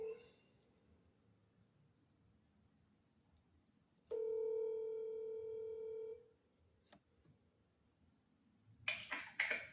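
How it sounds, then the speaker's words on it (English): A telephone placing a call: after quiet hiss, a loud steady electronic tone sounds for about two seconds, followed by a brief click and a short burst of noise near the end. "let's call up Shekhinah"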